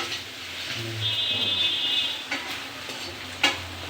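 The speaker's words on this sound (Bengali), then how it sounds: "রান্না হচ্ছে এখন এই যে চাউমিন রান্না হচ্ছে এখন" Chowmein is stir-fried with a spatula, a continuous close sizzle under a couple of sharper scrapes and knocks of the spatula against the pan near the end.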